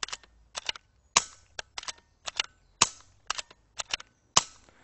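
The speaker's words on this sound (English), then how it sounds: "what we should hear is the sound of those shots getting quieter" Sharp cracking shots fire in quick irregular bursts, about a dozen in total, crisp and close with short decaying tails.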